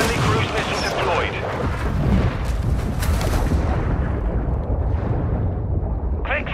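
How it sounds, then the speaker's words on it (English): Heavy, continuous booming blasts and rumbling gunfire from cruise missile strikes in the video game Modern Warfare 2, loud and dense throughout with rolling low-end explosions overlapping one another. "Friendly cruise missile deployed."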